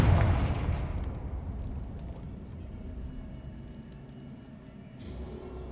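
A Confringo blasting spell in Hogwarts Legacy detonates with a heavy booming explosion at the start, its low rumble slowly decaying over several seconds, with no voices.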